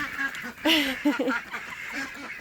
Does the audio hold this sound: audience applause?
no